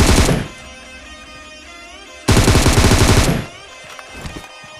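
Video game gunfire rattles out as pre-fire in a dead-gun-only challenge, with a loud automatic burst at the start, a longer sustained burst in the middle, and softer shots trailing off at the end.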